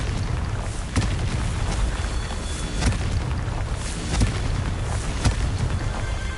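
Confringo blasting spell explosions in Hogwarts Legacy during a Merlin trial: a dense, continuous roar of booming blasts with several sharp bursts standing out at roughly one-second intervals, loud and close.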